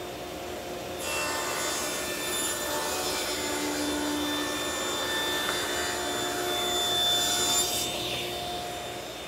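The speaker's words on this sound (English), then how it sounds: "let's start over at the table saw" A table saw rips wood strips for bookshelves. The motor spins up into a steady, close whirring drone, with a continuous cut lasting several seconds before it winds down.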